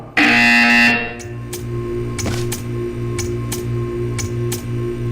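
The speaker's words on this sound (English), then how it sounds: "You will hear a buzzer." A loud electronic buzzer in the video game Portal 2 blares for under a second, then gives way to a steady low hum and a regular ticking that keeps going.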